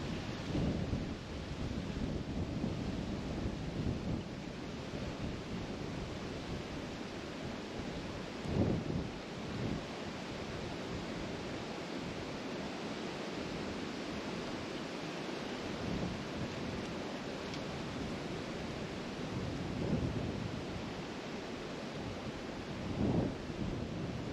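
Steady, rushing wind buffets the microphone throughout, with occasional stronger low thumps as gusts hit; no voices.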